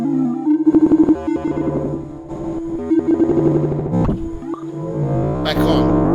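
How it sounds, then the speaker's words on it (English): An Elektron Digitakt II sample, with its comb filter modulation switched off and the low pass filter being manipulated, plays as a warbling, pitch-bending synthetic tone with choppy rhythmic pulses, ending in a bright noisy sweep. "Let's hear what it sounds like without that filter."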